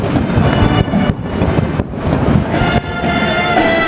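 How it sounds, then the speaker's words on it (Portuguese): Loud booming reports of a 21-gun cannon salute at a Brazilian Army ceremony, several heavy blasts in quick succession with rumbling echoes and wind buffeting the microphone. "Uma salva de 21 tiros de canhão abriu a solenidade."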